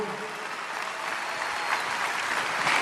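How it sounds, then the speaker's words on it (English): Stand-up comedy audience applauding steadily, a dense wash of many hands clapping that swells slightly toward the end, with no talk over it. "You guys are clapping"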